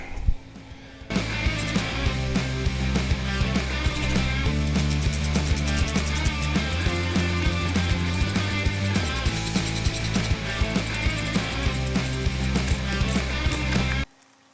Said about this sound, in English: Offset, spline drive, flex head, ratcheting wrench